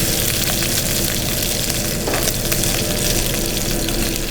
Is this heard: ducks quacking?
no